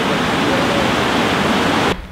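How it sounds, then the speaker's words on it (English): A mountain waterfall roars as a steady, dense broadband rush that cuts off abruptly near the end. "How do you like the waterfall?"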